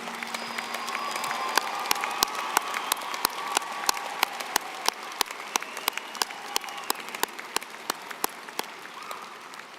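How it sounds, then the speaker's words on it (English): Steady applause from an audience at a graduation commencement ceremony, with a dense wash of clapping and a few sharper, louder claps standing out. "Would you join me in a round of applause?"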